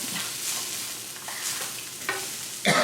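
Tortillas frying in a little oil in a pan for a home breakfast, giving a steady soft sizzle with a few faint clinks and stirring scrapes and a louder clatter at the end.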